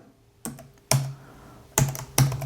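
Four sharp, separate keystrokes clack on a computer keyboard while Python code is typed, spaced unevenly and recorded close, with quiet gaps between them.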